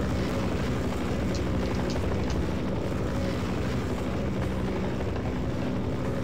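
Apache attack helicopter in Half-Life: Source, a loud, steady rotor roar with dense, rumbling engine noise that fills the scene continuously without letting up, close by and heard alone with no talk.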